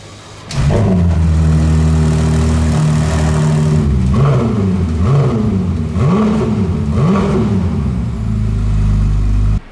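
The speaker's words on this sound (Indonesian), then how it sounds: "ini mesin V6 turbo yang bisa nge-rev sampai 8000 RPM" A loud, close Ferrari 296 GTS V6 turbo engine idles with a deep rumble, then revs sharply several times in quick rising-and-falling bursts before settling back to a steady idle.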